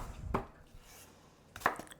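A Hinkle's knife chops vegetables, striking the board twice with crisp thuds about a second apart, quiet and close, with no voices.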